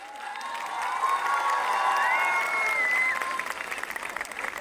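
An audience at a Christmas tree lighting ceremony in Masis applauds in a dense, steady clatter that swells and then thins out, with whistles and cheering voices rising over the clapping.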